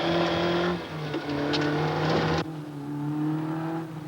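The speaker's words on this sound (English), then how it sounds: "He throws the car into the bend" Rallycross car driven hard into a bend on a circuit, its engine holding a steady droning note through the corner, with a brief surge and a sharp drop-off partway through before the drone resumes.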